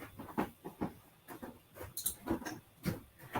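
A dog indoors shifting about with soft repeated whimpers and snuffling sounds, close by and fairly quiet, in short bursts at an irregular rhythm with no talking.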